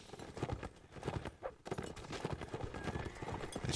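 Cavalry hooves thunder in Mount and Blade Warband, a dense run of galloping clip-clops that dips briefly midway and then surges back, continuous and close.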